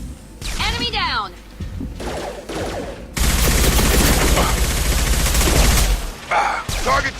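Sustained gunfire fills a Mass Effect 2 firefight, a dense rattling burst of shots running for several seconds, bracketed by loud voices shouting before and after.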